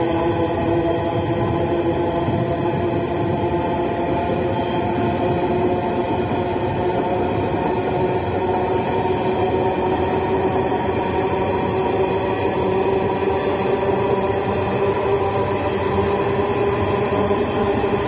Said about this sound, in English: Train is speeding up a bit